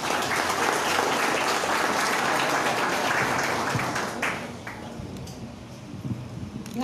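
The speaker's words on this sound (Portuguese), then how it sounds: "Vamos dar um aplauso" An audience applauding steadily in a church service, a dense wash of many hands clapping that thins out and tapers off toward the end.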